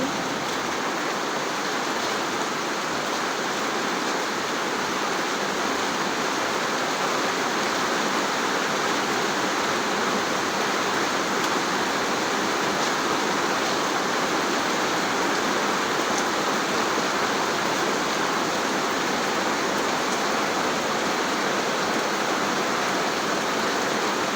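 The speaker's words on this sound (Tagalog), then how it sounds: "Lalong lumakas yung ulan." Heavy typhoon rain pours down without a break, a dense, even roar of water hitting the ground and surfaces nearby, loud and constant throughout.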